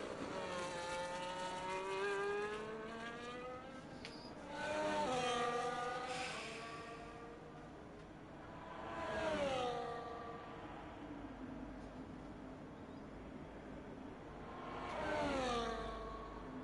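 McLaren race cars on an out lap in a racing video game at the Belgium circuit: high engine whines rise through the gears in repeated sweeps, swelling louder as cars pass, with no talk.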